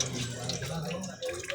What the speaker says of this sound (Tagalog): Huhugas lang ng kamay, grabe guys ang bukas ng gripo.